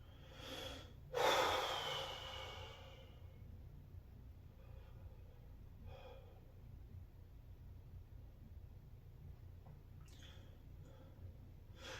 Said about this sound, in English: Take a few good breaths out.